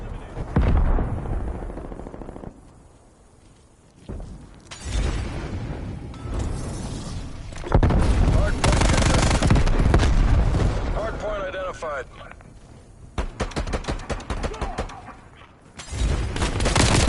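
Call of Duty Cold War match on the Nuketown map, with loud, close gunfire in rapid automatic bursts and heavy booms, broken by brief lulls, as game announcer voices call out over the action.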